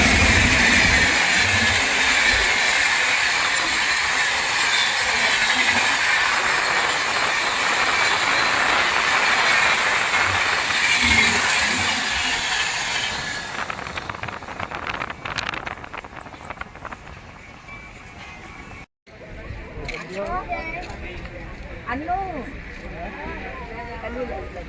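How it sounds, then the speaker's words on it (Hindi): Swatantrata Senani Express overtaking on a parallel track beside a moving train in India: loud continuous rail roar with wheel clatter and wind buffeting, fading as the passing train clears and the nearer carriage rattle continues. "भाई अपना ओवरटेक करके जा रही है स्वतंत्रता सेनानी एक्सप्रेस।"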